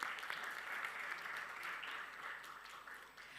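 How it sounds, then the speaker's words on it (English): An audience at a maritime awards and honorary doctorate ceremony in Dubai claps for an honoree, a dense, even spread of applause heard from a distance that tapers slightly at the end. "A round of applause, please"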